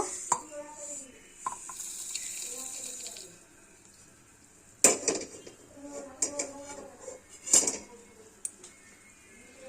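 Jujube chutney is poured from a pan into a pot in a home kitchen, giving clattering metal knocks and scraping with wet pouring and stirring textures, loudest in a few sharp clinks near the middle and end.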